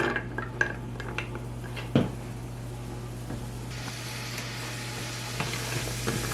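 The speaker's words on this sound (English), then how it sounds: "Then I'm gonna heat them up in this pan on the stove." Food sizzles gently in a pan on a stovetop as a utensil knocks and scrapes against the metal, with a few sharp clinks early on over a steady low hum.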